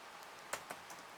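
Typing on a computer keyboard comes through as a few faint, sparse key clicks, one slightly sharper than the others, in a quiet room.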